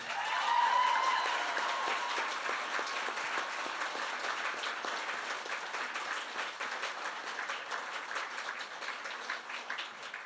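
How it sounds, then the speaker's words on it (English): Sustained applause from an audience at a book event, a dense wash of clapping that swells at first and then continues steadily, heard from within the crowd. "Keep clapping so we can't speak."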